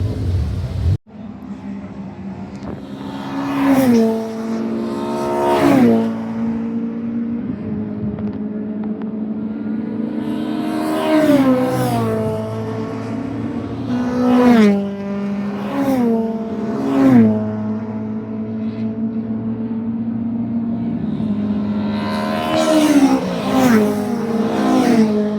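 Honda race cars pull out of the pit lane at Brands Hatch, their engines revving in repeated rising bursts that build and fade over a steady mechanical drone, with several cars passing nearby one after another.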